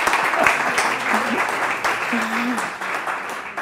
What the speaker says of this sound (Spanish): Una ovación para estas tres, cuatro personas que salen.